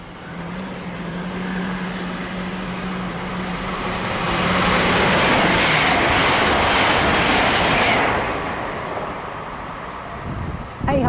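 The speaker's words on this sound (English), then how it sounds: "the next train to make an appearance will be Great Western Railway fast service going into London Paddington." A Great Western Railway fast service passing through Hanwell station on the Great Western Main Line toward London Paddington, a loud rushing roar that builds, peaks mid-pass with wheel and wind noise, then eases away.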